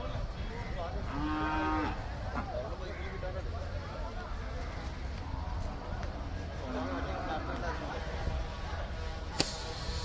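Buffaloes low now and then at the Kuzhalmannam cattle market while sold animals are loaded onto a vehicle, a couple of short moos over a busy, crowded background of voices and market clatter.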